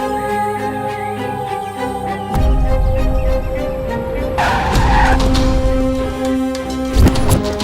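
A car braking suddenly in a Hindi-dubbed South Indian action crime thriller, tires skidding and squealing for about a second amid a heavy low rumble and a sustained tonal backdrop.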